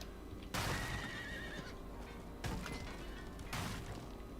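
A horse whinnies loudly three times in a row in the video game Diablo IV, each neigh sharp and close, with quiet background between them.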